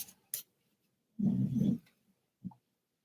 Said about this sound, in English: If you hear my dog snoring, she's had a hard day.